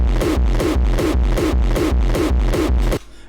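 Gated kick drum with punch and tail layered together, six heavy hits in a steady even rhythm, loud and close, each with a short boomy body that cuts off sharply, ending abruptly.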